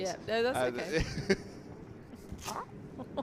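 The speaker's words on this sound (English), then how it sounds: "it's the Velcro on my top" Velcro on a clothing top is pulled open in a few brief rasping tearing bursts, heard close up after and around people talking.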